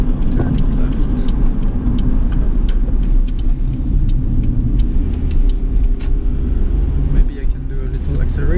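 A 1997 Honda Orthia, sixth-generation Civic wagon, driving and turning left: steady close engine drone with road rumble and tire noise throughout, a voice talking over it.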